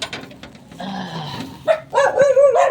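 Pet dogs greeting someone at home with short, excited yips and whining barks, close by and irregular, rising into higher-pitched yelps toward the end.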